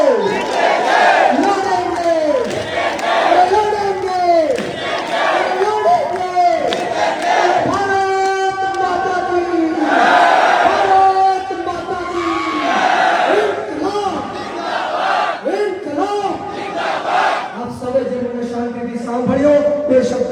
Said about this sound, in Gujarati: તાળી વગાડીને કહેવાનું છે, બોલો લડેંગે